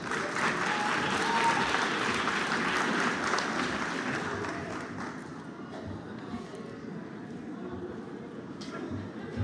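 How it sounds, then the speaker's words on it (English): An audience at a nursing pinning ceremony claps in a dense, loud round of applause that gradually thins and softens after about five seconds into lighter, scattered clapping. "Let's give our BSN students a round of applause."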